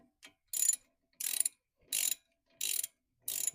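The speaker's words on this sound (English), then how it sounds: "let's grab the small socket. And give it a little snug." A socket ratchet snugging a brake caliper bracket bolt, five evenly spaced bursts of close, crisp clicking, each about a quarter second long with short silent gaps between.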